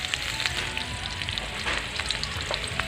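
Lightly salted potatoes fry in hot oil in a heated kadai, with a dense steady sizzle and scattered popping crackles and stirring scrapes close by, no voices.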